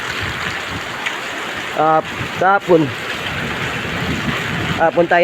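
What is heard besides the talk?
heavy rain during Typhoon Aghon landfall in Cavite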